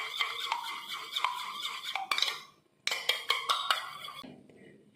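A spoon clinks and scrapes against a bowl as a turmeric face-pack paste is mixed, giving close, bright metallic taps and rubbing strokes in quick bursts, with one short pause midway.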